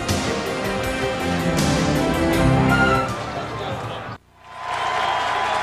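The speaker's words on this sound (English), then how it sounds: "Crowd on its feet and electrified" A stadium crowd at a 1998 college football game between West Virginia and Rutgers cheers after a Rutgers touchdown, a loud sustained roar with a broadcaster talking over it, briefly dropping out near the end.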